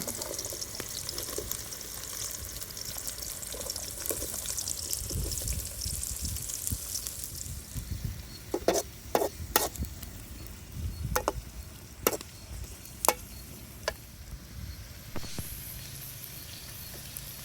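Chopped onion tossed into hot ghee in a kadai for a spicy chicken ghee roast, giving a steady low sizzle with a run of sharp clicks and stirring knocks in the latter half.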